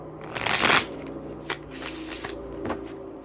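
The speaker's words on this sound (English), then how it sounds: "Shuffle one more time." Tarot cards being shuffled by hand, a loud burst of riffling followed by a few softer slaps and flicks of the deck, close by with no talking.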